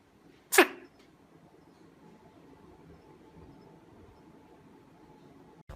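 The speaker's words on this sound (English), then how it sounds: "It's just an owl sneezing." One short, sharp sneeze from an owl, then quiet low background noise.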